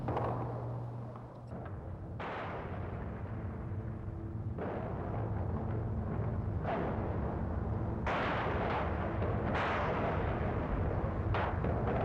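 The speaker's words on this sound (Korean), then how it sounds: "탱크 소리 그리고 총소리, 이 80년 5월 광주의 모습이네요." Archival 1980 Gwangju uprising recording of military tanks and gunfire: a continuous low rumbling roar with repeated sharp bursts and blasts, steady and loud throughout, with no talking.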